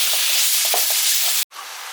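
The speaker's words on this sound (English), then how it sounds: "just pure simple rump steaks, very nicely cooked and finished off with the butter, which will finish them cooking." Rump steaks sizzle loudly in a pan with butter, a dense continuous frying hiss with faint pops, briefly cut off before it resumes.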